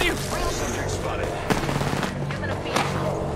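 Video-game gunfire during a ranked online shooter match: rapid bursts of automatic shots crackle up close while players talk excitedly over the top.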